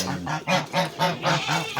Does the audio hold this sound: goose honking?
yes